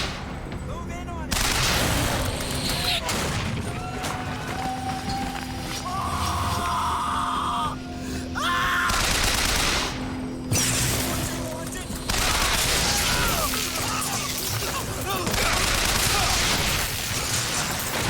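Sustained gunfire in a tense firefight, bursts of shots crackling steadily over a constant low hum, with shouted voices and brief pauses between volleys.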